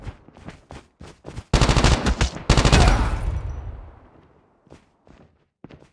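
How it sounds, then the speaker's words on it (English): Hostile sentry gun in a video game firing in rapid bursts, loud and close, with a sustained stretch of gunfire that rings out and fades, framed by lighter clicks and steps. "Be advised, hostile sentry gun spotted."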